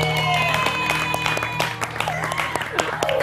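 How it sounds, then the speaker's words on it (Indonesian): Studio audience clapping on a television talk show, a moderate burst of applause over a steady low hum, with scattered louder claps toward the end. "Tepuk tangan dulu dong."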